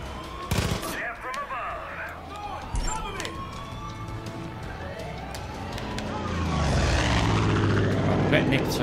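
A propeller plane in Far Cry 5 drones overhead, its engine hum rising and growing louder toward the end, with sharp gunfire bursts and someone talking over the scene.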